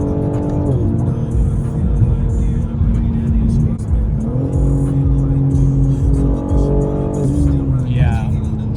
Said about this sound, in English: Man, those downshifts sound great.